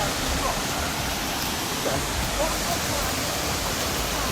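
Steady broadband rush of river water flowing in Jamaica after heavy rain, a loud continuous wash with no pauses that fills the whole stretch.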